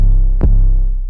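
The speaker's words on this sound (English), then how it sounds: "And then finally, we have this 808." A single deep, booming 808 bass drum note sustains with a sharp click near the start of its tone, then slowly fades.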